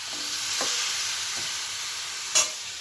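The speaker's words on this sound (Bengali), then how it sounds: "শুধু চিকেনটা আছে তেল আর হলুদ মাখানো, এটা দিয়ে দিলাম। এতে একটু হালকা করে ভাজবো।" Chicken coated in oil and turmeric frying lightly in a pan: a steady, soft sizzle with a few brief stirring scrapes and one sharper clink near the end, no talking.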